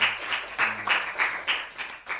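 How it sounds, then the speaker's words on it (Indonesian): A small audience claps in uneven bursts, a short round of applause with distinct pulses rather than a continuous roar. "Dan teman-teman tepuk tangan untuk Mbak Eka"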